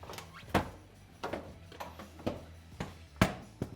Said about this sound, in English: The first thing we'll do, we'll open this door and remove the seat.